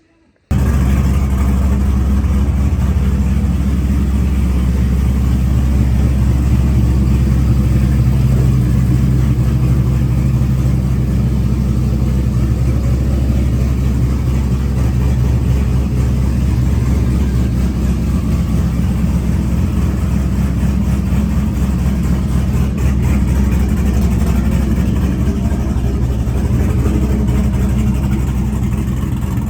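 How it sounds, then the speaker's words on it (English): A truck engine idles as it warms up after a new intake install, a steady, loud low rumble holding without a break throughout. "I got the truck warming up."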